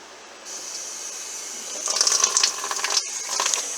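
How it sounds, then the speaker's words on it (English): Tap water pouring into a portable twin-tub washing machine, a hiss that begins quietly, then swells into a louder splashing, bubbling fill with brief pauses. "I load up the water."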